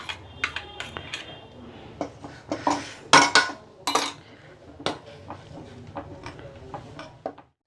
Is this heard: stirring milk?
yes